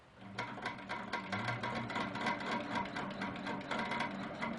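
A sewing machine stitches a quilt block in a steady, close run of rapid rhythmic needle clatter that continues without a break, with no voices.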